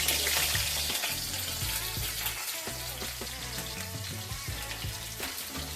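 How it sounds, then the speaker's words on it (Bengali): Onion frying in hot oil for mixed fried rice, a loud steady sizzle with crackling bursts running throughout, close up and with no talk. "প্রথমে পেঁয়াজটা দেবো,"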